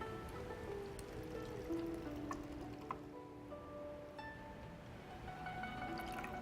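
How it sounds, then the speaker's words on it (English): Tea pours from a pot into a cup, a soft steady trickle of liquid with small clinks, quiet and close with no talking. "I'm gonna pour out this first pot of tea"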